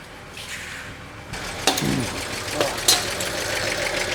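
A 1941 Chevy Coupe engine runs at a steady idle indoors, with a few sharp clanks and knocks over the hum; speech is likely present.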